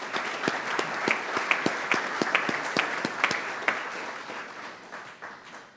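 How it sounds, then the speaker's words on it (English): Scattered applause from a small group at a Rotary club meeting, individual claps ringing out unevenly before gradually thinning and fading away. "Let's give a round of applause for our visiting guest today."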